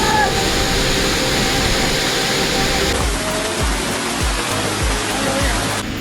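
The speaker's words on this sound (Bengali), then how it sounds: "শুধু পানি পড়ার শব্দ" Khoiyachora waterfall roars in a continuous dense rush of falling water, loud and close, with steady broadband noise throughout and some low thumps in the second half.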